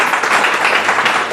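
Church congregation applauding loudly together during a sermon, a dense steady wash of clapping that fills the short moment without a pause.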